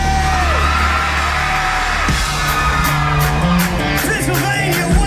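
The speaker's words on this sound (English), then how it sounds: "let me hear y'all scream" A live concert crowd at The Arrow in Allentown, Pennsylvania, screams and cheers loudly and continuously, with whoops and yells over a sustained roar from the packed room.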